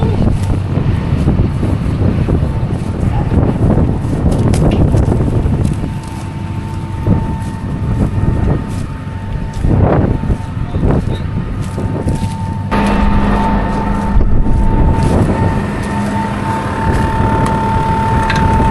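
Strong wind batters the microphone beside a farm conveyor outdoors, a loud rumbling buffeting that surges and fades in gusts, with faint mechanical tones underneath and no clear talk.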